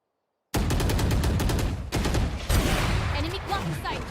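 Rapid gunfire in a Valorant match, a dense run of close, sharp automatic shots with a short break, then more shooting and game effects, with faint background talk.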